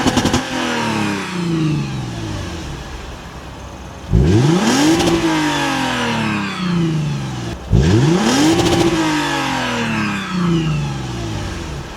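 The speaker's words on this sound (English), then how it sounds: "let's see how the engine sounds on a warm startup, and let's see how it sounds on a rev" A 2013 Lexus GS F Sport AWD engine, in neutral with traction control off, is revved twice from a steady idle; each blip sweeps up sharply, then falls back to idle, loud and close.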